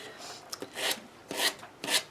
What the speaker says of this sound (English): just sand around and it will make a clean edge on your napkin